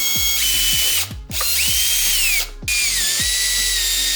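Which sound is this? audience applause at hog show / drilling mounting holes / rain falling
drilling mounting holes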